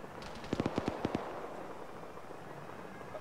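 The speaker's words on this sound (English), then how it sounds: "Where's that fire coming from?" A rapid burst of about eight gunshots cracks out in ARMA 3's Fallujah setting, slightly distant, then fades into quiet ambient noise.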